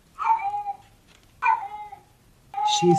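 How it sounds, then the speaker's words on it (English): A cat meows loudly three times, each cry drawn out and close, with short pauses between them. "That's a cat."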